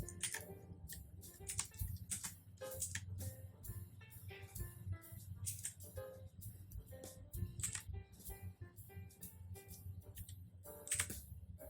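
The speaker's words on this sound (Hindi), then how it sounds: "तो आप जब टाइप करोगे तो आपको कैसा साउंड आएगा वो हम देख लेते हैं।" Keys clacking on a budget mechanical RGB keyboard priced under 2k, a steady run of close, crisp clicks and taps with uneven rhythm and no voices over it.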